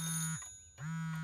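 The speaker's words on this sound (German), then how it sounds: "dass die Uhr so komisch klingelt?" A newly built clock in a children's cartoon rings with an odd, buzzing honk-like tone, two sustained electronic blasts broken by a brief falling dip and gap, loud and close.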